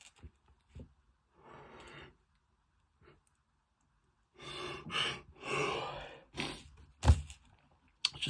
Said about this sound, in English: just yawning.